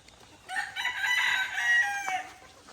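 A rooster belts out one close, loud crow lasting about a second and a half, with a hint of hen clucking at the tail end, among farm chickens with no one talking.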